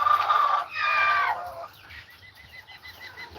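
Full-grown chickens in a chicken tractor give a loud drawn-out squawk nearby, followed by softer repeated clucks fading off, no talking.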